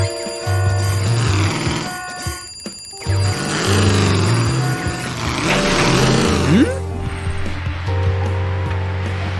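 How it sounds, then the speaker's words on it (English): An alarm rings in an animated cartoon about a construction town, with a bright repeating ringtone and electronic bell tones over music and effects, and characters talk over it. "Your alarm's ringing, Maverick."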